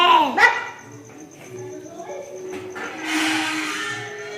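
A pet dog gives a sharp bark at the start, then softer whimpers and yips follow indoors, while people talk nearby.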